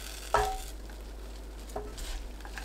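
A utensil clatters sharply against a pan while burdock and wild chive japchae is stirred, with a second softer scrape and faint sizzling underneath.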